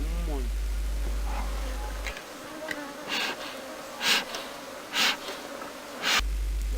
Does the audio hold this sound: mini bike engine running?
no